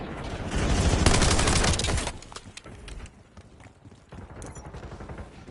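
Rapid gunfire from a video game gun, a dense loud burst of shots for about two seconds, then quieter scattered shots and game effects.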